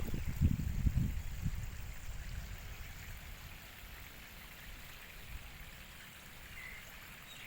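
Steady rainfall patters and trickles, with a brief low rumble at the start, continuing evenly and fairly quietly.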